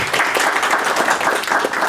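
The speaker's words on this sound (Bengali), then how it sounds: "আমরা একটা করতালি দেব।" Audience applause at an International Language Day celebration at Udichi in New York, dense and loud clapping from a crowd, sustained without a break.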